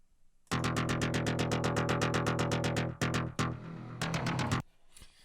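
A layered wavetable synth lead pulses in a rapid steady rhythm, thick and buzzy, then stutters through several choppy phrases before cutting off.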